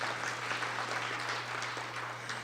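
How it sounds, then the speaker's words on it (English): Audience applause for a director at a meeting, a steady, fairly faint wash of clapping with a low mains hum underneath. "He'll get his separate applause"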